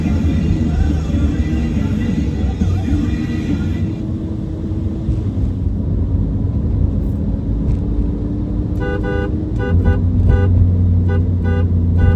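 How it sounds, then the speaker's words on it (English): A horn sounds on a 2011 Ferrari 458 Italia: several short, loud, bright blasts over a steady engine rumble, repeated in quick bursts near the end. "this needs an Italian horn. That's not an Italian horn. That's a truck horn."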